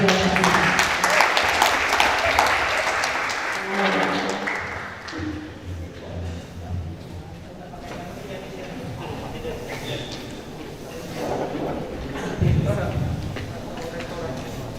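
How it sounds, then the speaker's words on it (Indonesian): An audience at a university guest lecture applauds the moderator's introduction, a burst of many hands clapping that fades within a few seconds, followed by someone speaking over the hall's quiet room tone. "Beri tepuk tangan yang meriah."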